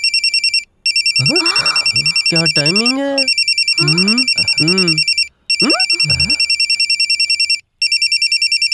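A loud electronic phone ringtone plays in repeating bursts, with brief pauses, while people talk over it.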